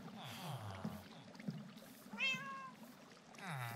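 A Minecraft cat meows a couple of times, short tonal cries over a low continuous game background, with a steady murmur underneath.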